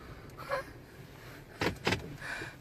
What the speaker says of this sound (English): We got a little zoom car pulling in.